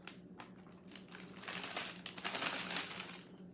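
A heavy 2.5-gallon Ziploc plastic bag crinkles and rustles up close, soft at first and then louder and denser for a couple of seconds before fading, with no talking.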